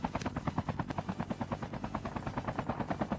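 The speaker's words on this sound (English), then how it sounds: "Where's that chopper now? There's a chopper, boys." Helicopter flying in the mobile shooter Call of Duty Mobile, a steady rapid rotor chop pulsing evenly throughout, fairly close and alone without talk.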